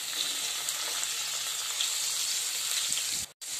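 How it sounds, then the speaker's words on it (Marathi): Finely chopped capsicum hits hot tempering oil spiced with turmeric and asafoetida, giving a loud, steady hiss and crackle of frying that runs unbroken and close, cut off abruptly near the end, with no speech. "आता यात मी इथं 3-4 शिमला मिरची बारीक कापून ठेवली आहे, ती टाकते"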